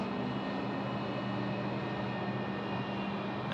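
An AirAsia Airbus A330-300 taxis at night at Sydney Airport, its engines giving a steady, moderately distant hum and whine with no one speaking.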